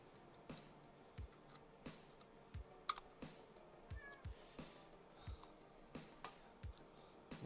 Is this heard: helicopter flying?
no